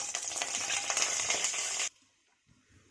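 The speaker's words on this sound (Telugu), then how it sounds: "బిర్యానీ ఆకు, ఇలాచి, చెక్క, ఇవన్నీ వేసి వేయించాలి బాగా" Whole spices, bay leaf, cardamom and cinnamon, frying in hot oil, a dense close sizzle with light stirring that cuts off abruptly after about two seconds, leaving near silence with a faint clatter.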